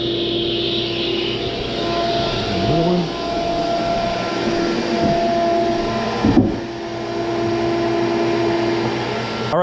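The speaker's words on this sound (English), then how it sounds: "Turn on the vacuum." A shop vacuum drones steadily in a woodworking shop at a loud, even level for several seconds while boards are cut for a top bar beehive, with faint knocks.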